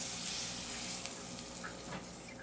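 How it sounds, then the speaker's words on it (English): Butter melting in a frying pan, a steady soft hiss and sizzle with a few faint bubbling pops, close and alone. "In your frying pan now, you want to go ahead and add some butter."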